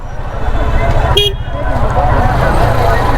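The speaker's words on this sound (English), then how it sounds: "I'm gonna be going through some heavy traffic area" Heavy city traffic in the Ataba district of Cairo, Egypt, rumbles steadily nearby, with one short car horn toot cutting through the dense engine and road noise.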